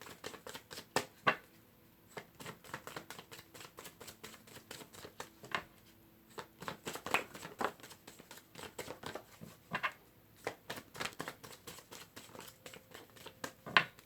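Tarot cards are shuffled by hand in quick, irregular bursts of crisp riffling and soft flapping, close and fairly quiet, with short pauses between runs and no speech.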